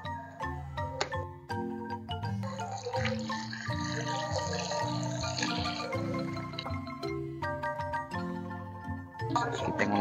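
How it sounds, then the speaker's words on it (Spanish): Water pours into a pot of Guatemalan chuchitos standing upright, a running splash that carries on for several seconds while background music plays. "echaremos agua."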